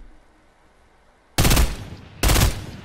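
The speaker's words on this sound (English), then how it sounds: "Oh, I hear more gunshots somewhere." Two sharp bursts of gunfire from a burst assault rifle in the Fortnite Battle Royale video game, loud and close, each a rapid cluster of shots, following a quiet stretch.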